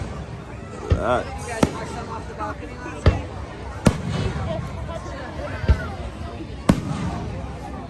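Canada Day fireworks burst in about six sharp, loud booms spread unevenly over several seconds, with people chatting nearby between the blasts.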